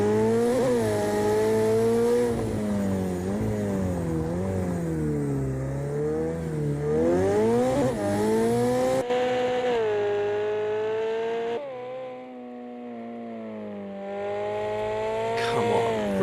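A McLaren 720S in the racing game Project CARS 2, its twin-turbo engine revving loudly and continuously with rising and falling pitch through gear changes, then easing to a lower drone before one final sharp rise.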